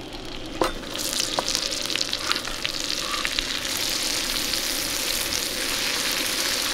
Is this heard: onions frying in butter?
yes